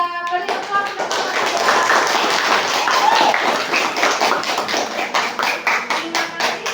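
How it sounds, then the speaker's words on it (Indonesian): Schoolchildren in a fourth-grade classroom clap for a presenting group, a close, busy burst of many hands that thins into rhythmic, evenly spaced claps toward the end. "Coba Bu Pipit ingin tahu aplausnya atau tepuk tangannya untuk kelompok 3."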